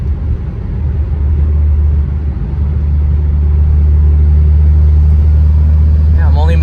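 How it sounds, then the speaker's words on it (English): A turbocharged Pontiac Solstice with a stage 1 tune drives along with a loud, steady low engine rumble and road roar that swells gradually toward the end, while a person talks over it. "When the turbo kicks in, you hear a real big turbo sound."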